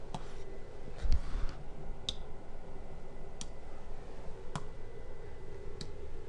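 Keys on a calculator keypad are tapped to enter numbers, giving a few faint, sparse clicks spread irregularly over a quiet background.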